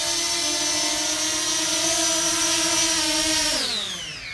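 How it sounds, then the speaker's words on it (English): A Fimi Mini drone hovering close by gives a steady, high, whining propeller buzz with a strong tonal hum, then the pitch slides down near the end as it moves or slows. "It's a nice little drone"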